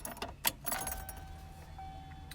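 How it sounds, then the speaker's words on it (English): Keys jangle and click as the ignition of a 1991 Foxbody Mustang is switched on without starting the engine, followed by a faint steady electronic tone in a quiet cabin. "First thing we're going to do is we're going to turn on the ignition,"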